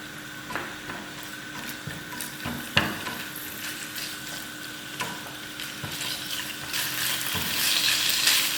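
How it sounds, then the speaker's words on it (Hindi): Boneless chicken and vegetables frying in a pan with soy sauce, a steady close sizzle with stirring and occasional utensil clicks throughout. "इसको थोड़ा सा फ्राई करेंगे।"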